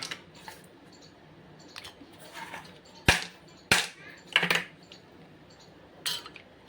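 A few sharp, bright clinks ring out one after another, like ice cubes dropping into glasses, close and fairly loud with quiet pauses between.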